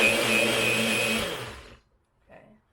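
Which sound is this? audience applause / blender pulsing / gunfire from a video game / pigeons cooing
blender pulsing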